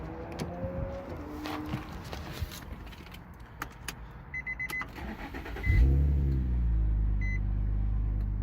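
A 2003–2008 Infiniti FX35 or Nissan Murano is started after a few key and cabin clicks, the engine cranking and catching near the end and then idling loudly and steadily.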